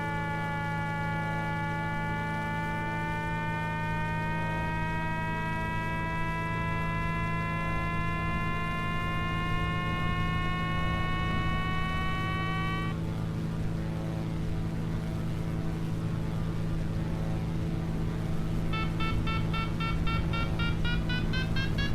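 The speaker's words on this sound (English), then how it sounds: "That beeping you're hearing is the variometer" In Flight Simulator X, a glider's variometer sounds a steady electronic tone that slowly rises in pitch, cuts off, then returns as rapid rising beeps, all over a constant low engine drone from the tow plane.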